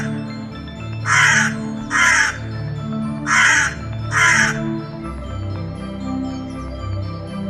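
A crow caws four times in a forest, loud and close, in two pairs of harsh calls over a low musical background.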